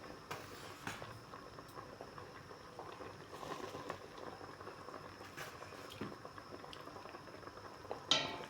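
Mackerel in coconut milk simmers in a pot, a faint, steady bubbling hiss that runs continuously with small irregular pops and no voices.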